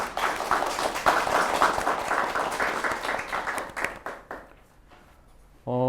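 Applause greets Kim Hyung-soo, director of a disability rights network for university students, at a public forum; steady clapping fills the room for several seconds, thins out and fades, then a voice starts at the end.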